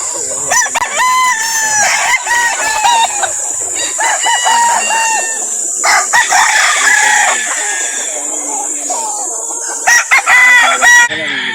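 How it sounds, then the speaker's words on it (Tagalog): Many chickens cluck and roosters crow loudly and close by at a poultry market in Calauan, overlapping continuously, with some voices talking in the background. "Ang daming dalang manok"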